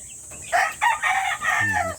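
Chickens on a mountain farm with many chicks, clucking and crowing loudly in a few close bursts, with a shed nearby.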